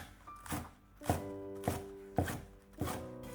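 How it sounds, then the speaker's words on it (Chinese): A knife chops a bunch of green onions into small rings on a cutting board, with four or five distinct, evenly spaced thuds, close and clear, with no voices. "再准备1把小葱，切成葱花。"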